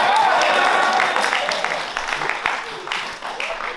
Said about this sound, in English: You fuckers will applaud over anything